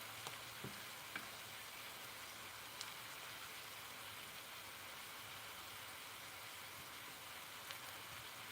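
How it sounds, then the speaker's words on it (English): Ripe sweet plantains fry in a pan with a continuous soft, even crackling sizzle, faint and steady with a few small pops scattered through, no voices. "And now I'm frying plantains. Ripe, sweet plantains."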